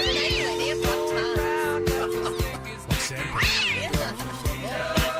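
A pet cat gives several meows, mixed in with music and talk on a radio morning show.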